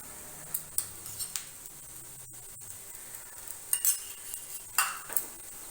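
Oil and batter for bread uttapam are swirled around a pan, giving a scattering of light metal clinks and scrapes over a faint, steady sizzle with no voices.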